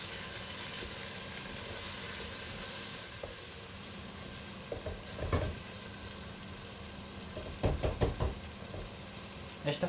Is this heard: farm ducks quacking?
no